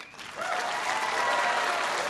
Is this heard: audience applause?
yes